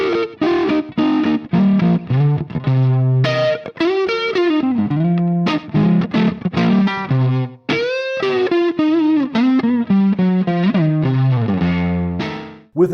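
Electric guitar through a 50-watt Marshall 1987X amp with EL34 tubes for vintage tones, a loud, continuous overdriven phrase of sustained notes and bends with no voice.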